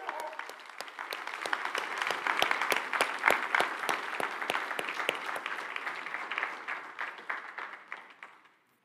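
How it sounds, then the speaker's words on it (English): A church congregation gives the elder board a steady round of applause, dense clapping from many hands that swells, holds for several seconds and then thins out near the end. "Will you give our elder board a round of applause?"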